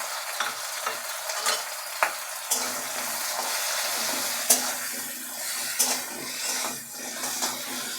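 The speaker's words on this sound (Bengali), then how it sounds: "একটু ভালো করে ভেজে নেবো।" Frying crab with turmeric in a pan: a continuous hiss of sizzling with repeated sharp scrapes and clicks of stirring, close up, no talking.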